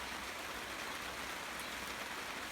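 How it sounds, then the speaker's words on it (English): Heavy rain drums steadily on the roof of a greenhouse, heard from inside as an even broadband hiss with no voices. "It's really bucketing down now, so I'm just taking shelter inside the greenhouse."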